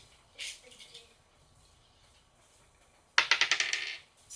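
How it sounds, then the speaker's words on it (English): Dice are rolled on a hard surface in a classroom setting, giving one soft clatter and then a sharp cluster of rapid bouncing clicks that quickly dies away. "you can roll the dice"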